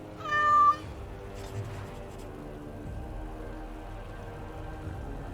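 A cat in the video game Dragon Age Awakening gives a single clear, close meow near the start, followed by a quiet, steady game ambience.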